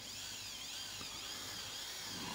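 A power drill boring into a wooden door frame to cut a recess for a door lock, a steady high whine held throughout at low level with no talk.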